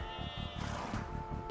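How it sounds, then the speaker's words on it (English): Sheep in the Age of Empires II video game bleat repeatedly in quick, wavering cries, heard fairly clearly over a steady game soundtrack. "there's some sheep. Grab the sheep."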